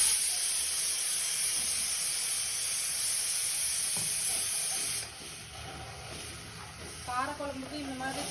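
Blended tomato pours into a pan of frying garlic and onion for a tamarind curry, a strong steady sizzle and hiss that drops abruptly as the liquid hits, then softer bubbling with a few bursts.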